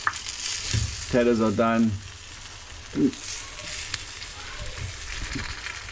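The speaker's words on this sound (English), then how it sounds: "Gonna leave this one just to simmer." A large pot of Durban-style beef curry for thirty people bubbles and sizzles steadily, while a person speaks briefly over it.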